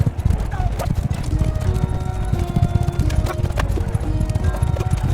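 Steady clip-clop of galloping hooves with occasional whinnies in a horse tournament in Mount & Blade II: Bannerlord, dense and continuous, mixed with game background noise and a voice talking over it.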